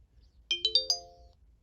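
Startup tone of a Samsung SGH A107 mobile phone: four quick rising chime notes, the last held and ringing out, heard clearly and alone in quiet.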